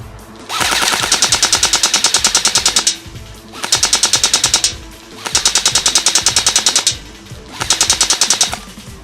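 A Valken Battle Machine airsoft rifle on a 9.6 volt battery fires fully automatic at a target in four loud, rapid bursts, each a dense rattling stream of shots separated by short pauses.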